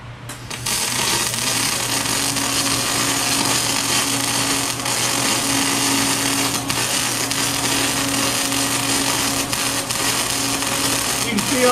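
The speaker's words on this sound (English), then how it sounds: "So he's going to be doing root arc on the root" MIG root arc pass on 8-inch schedule 40 pipe with a dual-bay pipe welding system: a steady, continuous buzzing crackle of the arc holding for the whole span, close and even, with a constant machine hum underneath.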